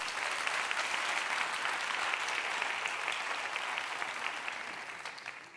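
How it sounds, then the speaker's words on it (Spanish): Steady, loud applause from a crowd welcoming a speaker at a science talk event, dense clapping sustained throughout with no break. "Un fuerte aplauso ahora sí para Iñaco."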